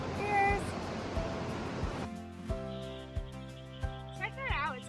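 Roaring, steady rush of a waterfall at Burney Falls, water pouring from many outlets in a mountainside, fills the first two seconds, then music with soft thumping beats takes over.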